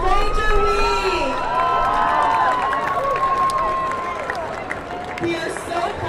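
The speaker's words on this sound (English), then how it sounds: "Let's give a big round of applause for our nominees" Crowd cheering and shouting at a school rally for Mr. and Mrs. Ranger Week nominees, loud and close, with high excited voices and whistles over a dense babble that tapers slightly toward the end.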